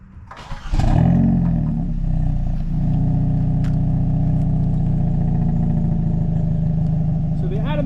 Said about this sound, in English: we're going to remote start it real quick